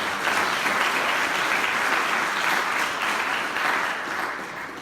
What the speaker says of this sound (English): Big round of applause to our platinum